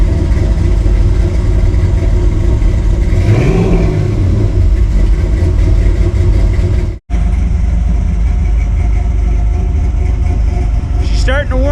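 LS-swapped square body Chevy truck idling high around 1200 rpm after a cold start, a steady close rumbling engine drone with a brief rise in pitch, a short dropout midway, and a voice speaking over it.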